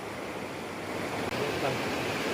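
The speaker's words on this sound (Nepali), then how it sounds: "खोला कराइरहेको है" A river rushes near a bridge in a mountain setting, giving a continuous broad roar of flowing water at moderate distance with no other sound standing out.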